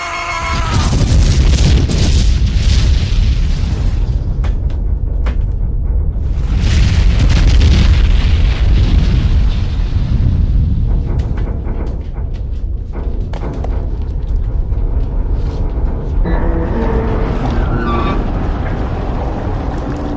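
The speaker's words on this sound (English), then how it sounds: "Torpedoes away, sir. Torpedoes coming in!" Heavy, continuous rumbling booms of underwater torpedo explosions in a submarine film battle scene, loud and deep, rolling for about twenty seconds with a few sharper bursts and swells.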